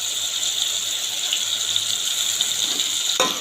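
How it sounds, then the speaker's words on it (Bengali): Water pours steadily into a pan of tomato and spices for a vegetarian dish, a continuous close gush that ends in a brief knock near the finish. "হালকা ধুয়ে একটুখানি জল দিয়ে দিলাম।"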